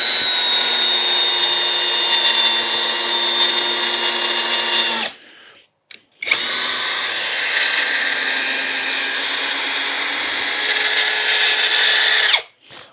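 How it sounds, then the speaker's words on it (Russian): A compact PROFIPOWER cordless drill driver drives a 100 mm screw, two long loud bursts of high motor whine, about five seconds each, with a short pause between, heard close up. "он сотку заворачивает спокойно саморез"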